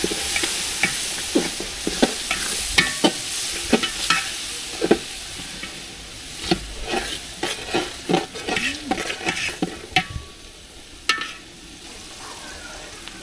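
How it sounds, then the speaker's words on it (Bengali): Garlic paste sizzling in a pan with fried onions and whole spices, stirred vigorously with a utensil, giving repeated sharp scraping clacks over a continuous close frying hiss. "পেঁয়াজ ভাজা হয়ে গেছে, এবার দিয়ে দেবো রসুন বাটা।"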